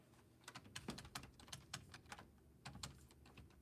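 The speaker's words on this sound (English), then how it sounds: "I'm typing it in right now." Rapid, faint clicking of a computer keyboard being typed on, with irregular bursts of keystrokes and brief pauses, heard alone without talk.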